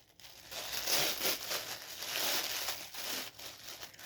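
Wrapping paper crinkles and tears in rustling bursts, close and fairly quiet, with no voices.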